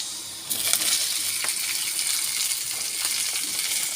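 Okra going into a hot pan with onion and garlic, a steady bright sizzle and crackle that starts abruptly and carries on, close and fairly loud, with no talking.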